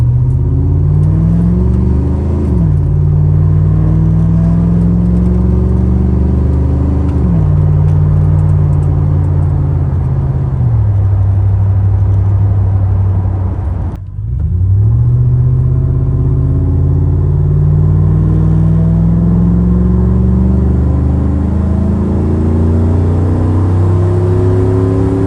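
A Chevy Silverado pickup with a Corvette servo 4L60E transmission accelerates hard, its loud engine rising in pitch through several gear shifts with brief dips between, heard from inside the cab with no talk.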